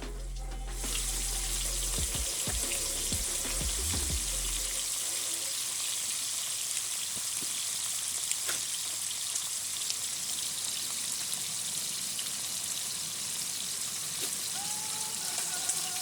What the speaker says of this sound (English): we're going to be searing this for about 1 minute per side